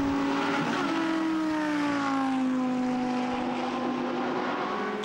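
Lamborghini Super Trofeo race cars power along the Nürburgring, engine drone holding steady with a gliding pitch as the pack passes, loud and continuous with no voices.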